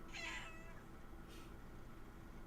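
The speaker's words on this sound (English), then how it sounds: "She said, no, that sounded like meow, literally." A house cat gives one clear, fairly close meow near the start, followed by a fainter short vocal sound, all over a quiet room.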